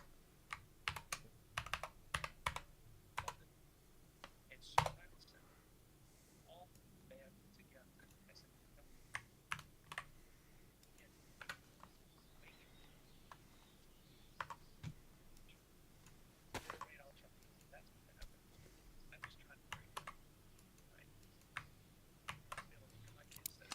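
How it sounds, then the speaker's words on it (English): Keyboard typing in irregular bursts of quick, faint clicks, with a few louder taps, during a DayZ gaming session at a computer; a low background hum runs throughout. "I'm just typing stuff."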